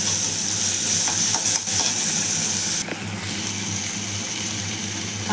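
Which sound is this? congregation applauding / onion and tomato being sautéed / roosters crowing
onion and tomato being sautéed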